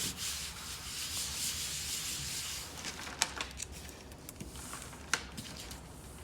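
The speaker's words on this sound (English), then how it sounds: "if your square is perfect on the board, okay, then you rub it down" A stained-glass stencil pattern being rubbed down flat onto a board, giving a steady dry scuffing and rubbing sound close by, with a few sharp taps and clicks toward the end.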